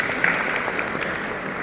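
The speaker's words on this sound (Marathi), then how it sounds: "या सत्कारासाठी टाळ्या व्हाव्यात ही नम्र विनंती" Applause rises at a school felicitation ceremony honouring a teacher, brief continuous clapping from a gathered audience with no voices over it.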